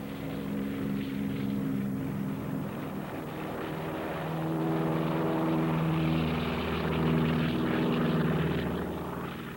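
Military propeller aircraft drone past in a steady, rumbling roar that swells toward the middle and end, dense engine hum filling the scene with no voices.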